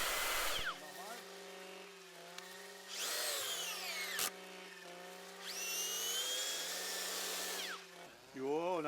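Motorised earth auger drilling holes for planting hedge saplings, a steady engine drone that swells and revs up several times as the bit bores in, close and loud, with a brief break between revs.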